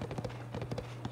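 Horse hooves clip-clop at a brisk trot in the Zelda: Tears of the Kingdom video game, light quick steps over a steady low game hum.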